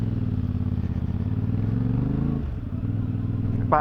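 A CFMOTO 450MT motorcycle riding along at low revs, its engine giving a steady, close, thrumming pulse with a slight pitch change near the end and no talking.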